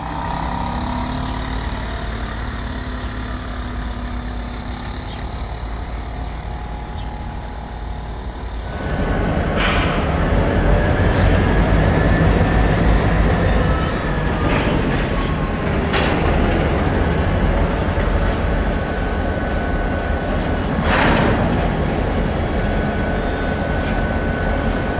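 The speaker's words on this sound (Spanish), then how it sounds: "Este rugir es único de las ES-44 híbridas." ES44 hybrid diesel locomotives hauling a heavy freight train in Torreón: a loud rumbling approach that swells into a sustained engine roar with wheel squeal and rattling cars passing close by, no speech.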